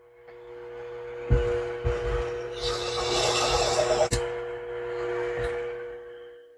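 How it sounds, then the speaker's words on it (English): A 3/4 inch core bit in a drill chuck bores into a small model life ring held in pliers, a close steady grinding rasp with a few sharp clicks and bumps as the bit bites and stops. "Now put a 3/4 inch core bit in the chuck. Hold the ring with a pair of pliers. And drill down about halfway."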